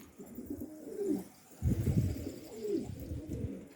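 Pigeons held before release coo close by, two or three rolling calls with a louder fluttery rustle in the middle.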